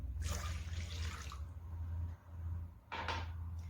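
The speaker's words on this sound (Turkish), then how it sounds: "1 su bardağı sıvı yağ, sıvı malzemelerimi ekledim." Warm water, milk and oil being poured into a bowl for dough, a steady close liquid stream running for a couple of seconds, pausing briefly, then splashing again in a shorter pour, with no voices.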